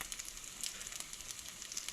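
Fruit bread fries in butter in a pan, a quiet, steady sizzle with light crackling pops throughout, close up.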